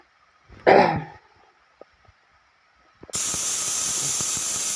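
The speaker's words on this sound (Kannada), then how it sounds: "ಒಂದು ವಿಷಲ್ ಆಯಿತು, ಎರಡನೇ ವಿಷಲು ಆಯಿತು." A pressure cooker vents steam in a home kitchen while cooking vegetable pulao: a sudden loud, steady hiss bursts out and keeps going, after a brief throaty noise and a few small clicks in near silence.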